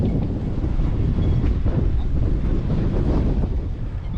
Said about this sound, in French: c'est quand même un petit peu galère quand il y a beaucoup de vent comme ça